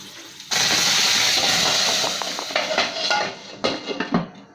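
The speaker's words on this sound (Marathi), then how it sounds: "कटाच्या आमटीला आपण वाटीसकट फोडणी दिलेली आहे" A very hot tempering bowl dropped into a pot of katachi amti sets off a sudden loud sizzling hiss that fades over a few seconds, with faint clinks near the end.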